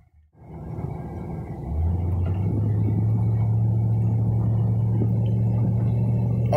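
A car with newly repaired cruise control starts up and settles into a steady, low engine rumble from inside the cabin, holding a constant drone at the start of a test drive.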